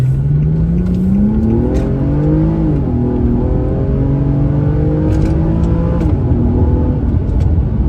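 A 2008 Infiniti G35xS with an aftermarket Stillen cat-back exhaust revs up and settles back twice, a deep droning exhaust note rising and falling in pitch, loud and close with no talking.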